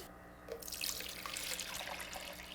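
Bleach fix photo chemical, 500 milliliters, pours into a container in a steady faint splashing stream lasting a couple of seconds, with no voices.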